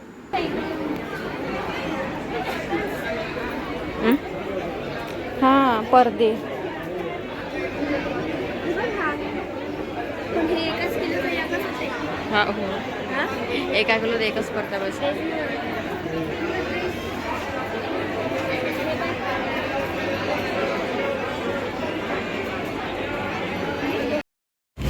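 Busy crowd at a packed clothes sale in an Amravati mall, dense overlapping chatter and murmur close around, with nearby voices talking over it throughout.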